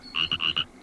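A frog croaks close by in four quick, loud pulses with brief gaps, the last a little shorter, all rising out of near silence.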